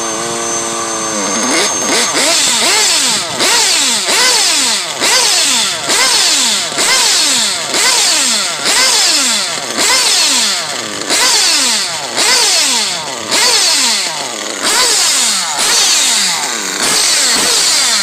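A nitro RC buggy, a Teckno buggy fitted with a modded RB Reds engine, fires up and revs repeatedly, a loud, close, high-pitched buzzing whine that surges and drops in steady rhythmic bursts of throttle.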